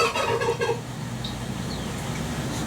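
A turkey on a farm with chickens and quail gives a loud, brief gobble at the start, then fades into quieter background noise.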